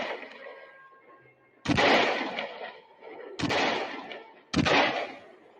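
Three sharp, loud rifle shots burst out at uneven intervals in a dramatized story, each crack trailing off into a rumbling echo over a quiet, murky background.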